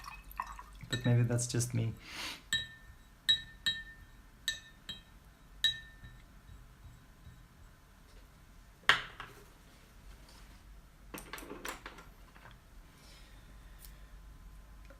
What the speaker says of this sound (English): I really enjoy the sound of like cleaning a watercolor brush in water